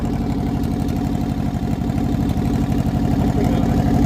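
A 1958 Goliath car engine idling, a loud, close, steady putter with rapid even firing pulses throughout.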